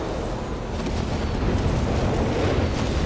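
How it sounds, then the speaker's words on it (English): Mines exploding on a Company of Heroes 3 battlefield, a dense, loud rumbling wall of blasts and booms lasting about three seconds, with no voices over it. "Mines exploding here."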